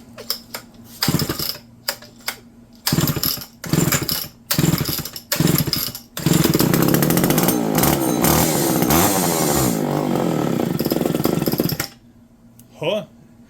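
A Homelite Super XL chainsaw being revived sputters in several short bursts, then catches and runs roughly for about six seconds before cutting out, loud and close, with people talking around it.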